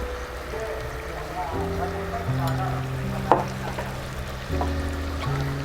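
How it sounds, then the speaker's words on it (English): Chicken kurma spices frying and being stirred in a clay pot, a continuous sizzle under a voice talking, with one sharp knock partway through. "And you can see how well it's getting fried."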